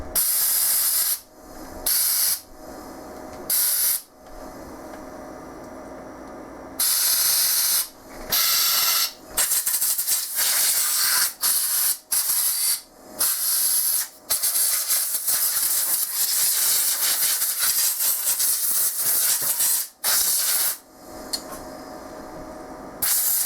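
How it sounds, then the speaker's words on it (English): Compressed air blown in repeated hissing bursts through a cleaned fuel rail from a 2001 Ford F250 5.4 engine, loud and close, with short pauses between blasts. "blow some air through it, make sure there's no wire or any other debris in there from the wire wheel"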